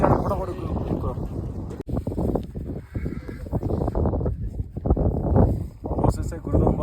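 A strong mountain wind buffets the microphone on a high Sikkim motorbike ride near a frozen lake, roaring and gusting loudly throughout while people talk over it.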